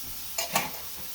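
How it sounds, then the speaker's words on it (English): A chopped onion sizzles gently in a pan while a utensil chops at it, two quick scraping strikes standing out over the steady low hiss. "I just want to give it a little chop in my pan"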